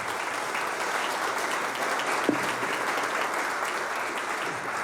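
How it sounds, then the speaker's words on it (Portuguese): An audience at a regional retail and franchising business event applauds in a steady, dense wash of clapping that runs throughout, with one sharper clap standing out midway. "Uma salva de palmas para a Natália."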